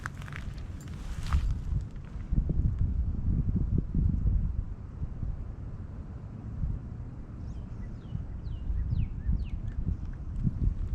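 Gusty wind at the beach buffeting the microphone, low rumbling bursts that swell and fade unevenly, with faint bird chirps in the background.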